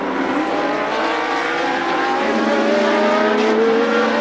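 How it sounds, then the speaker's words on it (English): Formula One cars at the 1982 British Grand Prix scream past, a loud, continuous high engine wail that rises in pitch as the cars accelerate down a straight. "build up the speed, go down the Brabham straight, and just watch Torbay closing right up on Andrew De Cesaris"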